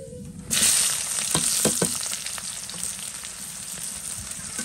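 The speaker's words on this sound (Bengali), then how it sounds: "এখন হচ্ছে পেঁয়াজ কুচি দিয়ে দেব" Chopped onions hit hot oil already seasoned with cinnamon and cardamom, starting a loud, steady sizzle with a few sharp crackles and stirring clatters early on, close by and continuous without talk.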